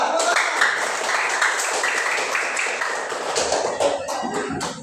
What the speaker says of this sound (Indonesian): mari kita berikan aplaus kepada kelompok 3